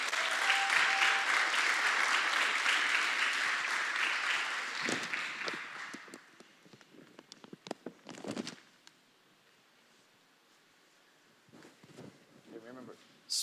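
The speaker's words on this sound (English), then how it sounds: "Round of applause for all our future." Audience applause fills a local government commission meeting, loud and dense for about six seconds, then thins into scattered claps and murmurs with brief voices.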